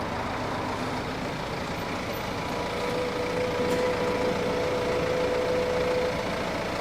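An electric retractable tow bar on a BMW X3 xDrive 20d slowly extends with a steady mechanical hum, heard close under a constant low rumble.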